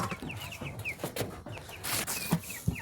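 Soft, repeated pigeon calls and clucks sound close by in a quiet coop, with a couple of sharp knocks near the end.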